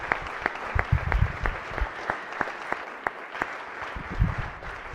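Applause in a state Senate chamber from a modest number of people, individual claps distinct and fairly rhythmic, sustained for several seconds at moderate loudness with faint murmuring underneath.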